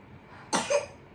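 A single sharp child's cough at night, close and fairly loud, followed by a shorter raspy tail, with quiet room tone before and after.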